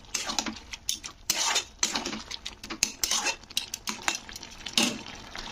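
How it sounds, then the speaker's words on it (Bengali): A utensil scrapes and clatters against a pan while leafy greens (chikni shak) are stirred for a chorchori, giving irregular, close, fairly quiet bursts of scraping with faint sizzling between strokes. "আমি দেখো শাকটা দিয়ে একটু নাড়াচাড়া করে"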